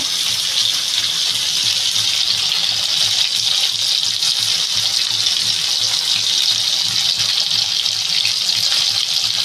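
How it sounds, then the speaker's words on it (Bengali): Green chilies being washed under a running kitchen tap, a loud, steady close gush of water splashing into a sink throughout, with no voices. "কাঁচা লঙ্কাগুলো আমি ধুয়ে মাঝখান থেকে চিড়ে নেব।"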